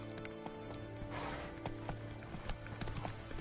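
A horse gallops in The Witcher 3 video game, its hooves drumming in a quick, steady clip-clop rhythm, up close, with faint mechanical clicks mixed in.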